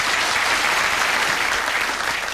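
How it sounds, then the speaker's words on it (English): Studio audience at a 1996 UK Jeopardy quiz show breaks into loud, dense, sustained applause, steady throughout with no gaps. "And this round of applause for the 2 of you."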